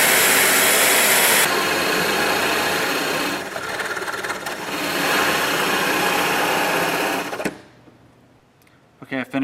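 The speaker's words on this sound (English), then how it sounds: "Okay, I finished drilling the hole for the cylinder to go through." A power drill runs loud and steady while boring a cylinder hole through a wooden door, the pitch shifting as it cuts, then stops, leaving quiet handling clicks.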